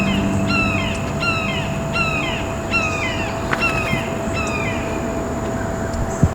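Blue jays and red-shouldered hawks call outdoors over a steady traffic hum, a run of repeated, sharply descending calls in quick succession, fairly close and clear above the constant background drone.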